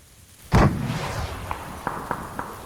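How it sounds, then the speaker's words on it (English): A mortar shell fired in PUBG on the Mylta map bursts with a sudden loud boom, trailing into a rumbling decay, followed by several faint, sharp distant pops. "I decided to just shoot a mortar, see what happened."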